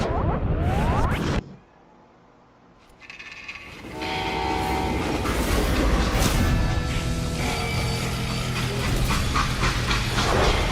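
Freight train rumbling along the tracks in the Western game Call of Juarez Gunslinger, a loud continuous roar with clanking and a horn-like tonal blare, broken by a brief near-silent gap before the rolling din resumes.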